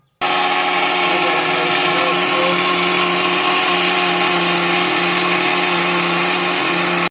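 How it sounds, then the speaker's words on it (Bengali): A blender grinds ingredients for pitha to a fine paste continuously at high speed, a loud steady motor whine with a rough churning texture that runs unbroken throughout. "আমরা কি করব ব্যালেন্ডারে ফেসবো"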